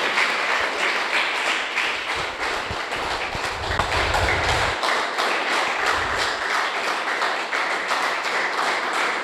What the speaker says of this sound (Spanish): Dale aplausos al Señor, hermano, de esas palmas que suenen, hermano.